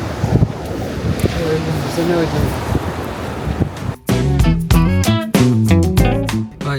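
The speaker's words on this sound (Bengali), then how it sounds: "বাইরের কি অবস্থা ভাই কঠিন যে বাতাস" Strong gusting wind on Jebudo Island roars loudly and steadily as broadband rushing and buffeting across the mic, with people talking over it in the second half.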